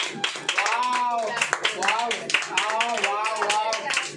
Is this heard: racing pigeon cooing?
no